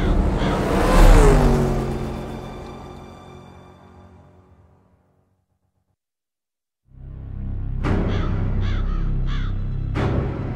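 Three crows caw in a Twisted Metal: Black cutscene at Blackfield Asylum, a few harsh calls ringing out after a rumbling swell and a stretch of silence, loud and close.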